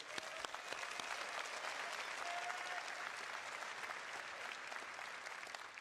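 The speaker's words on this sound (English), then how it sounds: "So please give a round of applause for Tyler Wicken." Audience at the CitizenCon Star Citizen fan event applauding steadily, a dense, sustained clapping from a large crowd with no talk over it.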